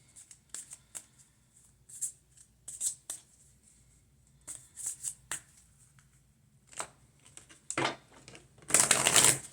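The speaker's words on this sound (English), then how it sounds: "Give it a good shuffle." A deck of oracle cards is shuffled in repeated bursts of riffling and flicking, close and crisp, with brief pauses between, ending in a louder, denser riffle.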